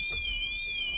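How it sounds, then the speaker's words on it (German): A window intrusion alarm in a Kabe Affinity caravan gives a steady, high-pitched warbling tone that holds continuously at an even loudness. "Okay. Alarm."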